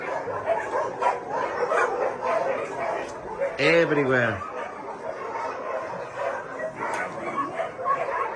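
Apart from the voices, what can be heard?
many shelter dogs barking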